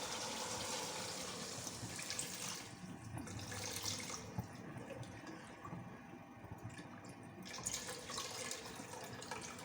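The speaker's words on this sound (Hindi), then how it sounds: "मैं इसमें शोरबा डाल देती हूँ।" Broth pours steadily into a pot, splashing and gurgling close by, pausing briefly midway before the pouring resumes.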